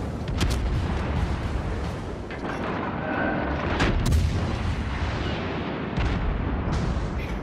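Naval gunfire and shell hits from a USS Albany cruiser battle in World of Warships Legends on PS4: a dense, continuous wall of booming cannon blasts and rumbling impacts, loud and close throughout.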